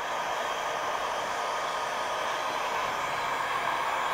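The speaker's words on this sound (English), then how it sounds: "If you do not have a heat gun, you can use a hair dryer." A heat gun or hair dryer blows steadily, a constant airy whoosh with a motor whine, close and unbroken, heating a motorcycle brake master cylinder cover.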